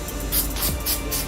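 Aerosol cleaner sprays in a few short hissing bursts onto Ford Ranger disk brake parts, close and fairly loud.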